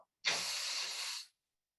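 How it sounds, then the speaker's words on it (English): Steam vents from an Instant Pot pressure cooker as one steady, loud hiss of about a second, starting abruptly and cutting off cleanly, with no voices over it. "I'm going to let the steam out."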